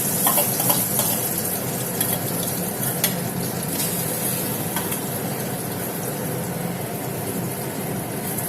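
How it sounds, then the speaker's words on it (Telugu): Onion and egg omelette mixture frying in oil in a pan, a steady close sizzle that runs unbroken throughout with faint scraping and stirring clicks. "ఈ విధంగా కలిపేసుకుని నూనె పెనంలో పెట్టేసుకుని వేసేసుకోవాలన్నమాట"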